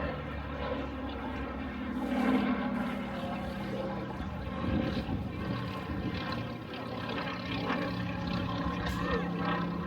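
A Westland Lysander propeller aircraft at an air show at Cosford, restored by the Aircraft Restoration Company at Duxford, gives a steady droning engine and propeller rumble throughout with slight swells in loudness.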